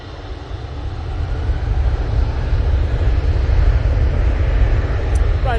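An easyJet airliner taxis at Manchester Airport, its jet engines a broad steady roar that swells slightly and holds loud and fairly near.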